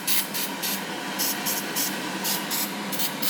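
A can of cleaner sprays into a car's cabin air filter intake behind the dash, giving a steady close hiss that pulses in short repeated bursts.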